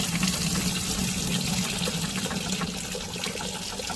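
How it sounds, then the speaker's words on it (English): Running water pours steadily over a rock tumbler lid being rinsed, a constant close splashing gush with no pauses and no talk. "Let's rinse off the lid really good."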